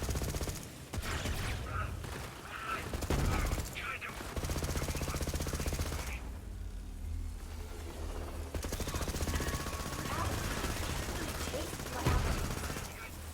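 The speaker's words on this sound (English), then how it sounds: "firing from the hip isn't so great" Rapid, dense pistol fire from the video game Borderlands 3 rattles almost continuously for about thirteen seconds, loud and close, with a brief lull midway, while a voice talks over it.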